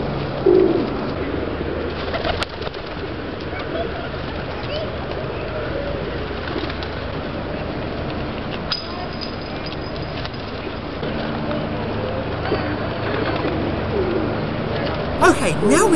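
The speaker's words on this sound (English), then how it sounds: "I'm feeding the pigeons anyway." Pigeons coo softly and flutter while being fed in Soho Square, London, with city street noise and people talking throughout the steady outdoor ambience.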